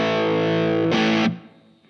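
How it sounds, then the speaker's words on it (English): An electric guitar plays through a DOD OD/PRE 250 overdrive pedal into an amplifier's dirty channel. One loud, distorted chord sustains, a brief noisy pick scrape cuts in, and then the sound stops abruptly and a short tail fades. "we're now going into the dirty channel of the amp"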